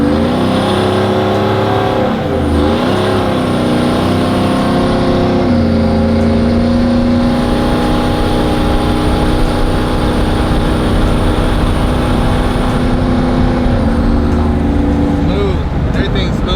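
A trophy truck's engine runs steadily and loud throughout, a sustained motor drone with shifting tones as the truck drives, and speech is faintly present underneath.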